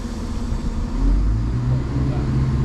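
Busy passenger train from Leicester on a country service: a steady low rumble of the running train fills the interior, rising slightly partway through, loud and continuous with no clear voices.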